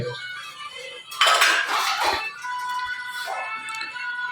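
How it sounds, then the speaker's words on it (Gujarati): Dishes, pots and utensils being washed at home, with clattering metal pans, clinking steel cutlery and splashing water, nearby and irregular, growing louder midway, with no one speaking. "મમ્મી વાસણ ધોવે"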